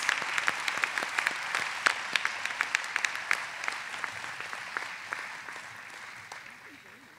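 Audience applause for graduating candidates at a college special education commencement, with distinct individual claps standing out through the crowd before the clapping gradually thins and fades.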